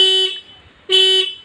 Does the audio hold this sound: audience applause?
no